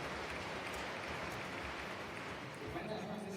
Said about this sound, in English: A warm applause for him.